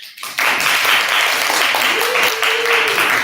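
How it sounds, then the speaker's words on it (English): After a brief quiet moment, a crowd at a 2021 Envirothon awards ceremony bursts into loud, thick applause and keeps clapping steadily to the end. "We give applause to all of you"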